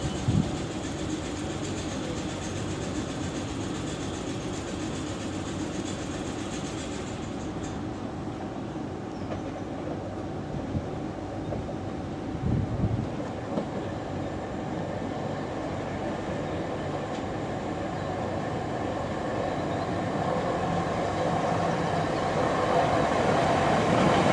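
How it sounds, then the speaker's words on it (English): South Western Railway train slowly approaching a station, a continuous low rumble and rolling wheel noise that grows steadily louder and brighter over about 24 seconds. "And my train is slowly approaching"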